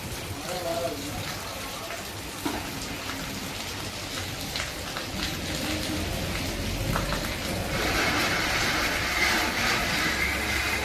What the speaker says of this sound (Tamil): அவ்வளோ மழை அடிக்குது.